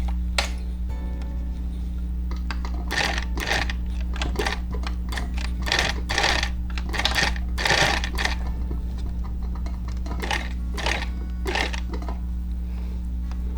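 A sewing machine stitches pony underbelly fabric in bursts of rapid needle clatter, starting and stopping repeatedly over a steady motor hum, with no voice.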